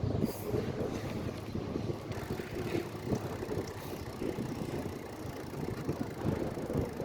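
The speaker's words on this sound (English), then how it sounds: "now the wind is starting to pick up" Wind rushes past a bicycle rider on Fort Myers Beach, a constant low buffeting roar against the microphone with no voices.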